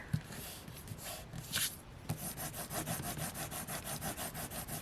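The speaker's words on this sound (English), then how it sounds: "I use my nails to rub against anything that's like tape" Fingernails rubbing back and forth over tape on a handmade journal, making fast rhythmic scratchy strokes close up, a few irregular rubs at first and then a steady series.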